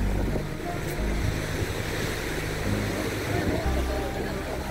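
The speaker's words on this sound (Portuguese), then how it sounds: "Aí as ondas aí, ó. Tá muito agitado." Rough sea waves crash and wash continuously against the shore at Forte São Mateus in Cabo Frio, loud and close, with wind buffeting the microphone.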